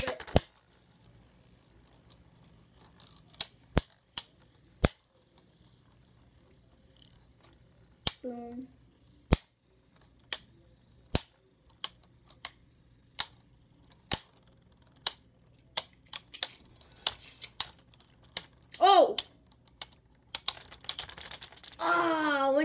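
Beyblade spinning tops launched and battling: sharp, irregular plastic clacks and cracks scattered over about twenty seconds, growing denser toward the end, with brief voices heard among them.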